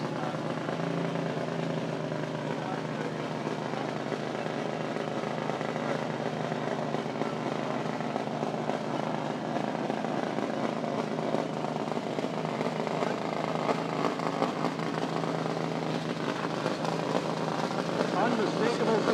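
A Top Fuel dragster engine at a drag racing event at Toronto Motorsports Park, a loud continuous broadband roar that holds steady throughout, heard from a distance with no talking.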